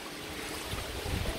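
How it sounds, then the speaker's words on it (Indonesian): Wind rushes over a flooded river in Banjarmasin as a brief, faint, steady broadband roar with low buffeting and no voices. "anginnya banter"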